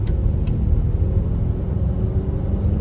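A 2022 Volvo XC60 B6 Inscription accelerates onto a multi-lane highway at light throttle, heard from inside the cabin as a steady low engine and road rumble with faint wind hiss.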